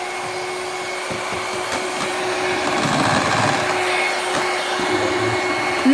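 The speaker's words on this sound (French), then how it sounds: "J'ai presque fini de battre les blancs d'œufs et maintenant je vais mettre le sucre en poudre." An electric mixer beats egg whites in a kitchen with a steady whirring motor hum, its pitch shifting slightly as the beaters move through the bowl, with a few faint clicks and no talking.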